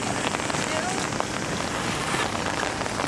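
Steady rain falls outdoors in a continuous, even patter on nearby surfaces, with faint voices occasionally audible beneath it.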